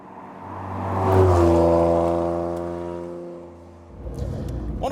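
A Noble M400 sports car, 400 brake horsepower per ton, accelerating hard: the engine note swells and holds a strong, steady tone, then drops briefly before rising again, loud and close.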